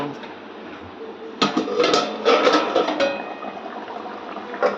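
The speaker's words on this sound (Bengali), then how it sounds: "এবার ঢাকনাটা খুলে ফেলব।" The lid comes off a pot of simmering hilsa fish curry, a sudden clatter of metal followed by bright clinks and bubbling, with someone talking over the kitchen sounds.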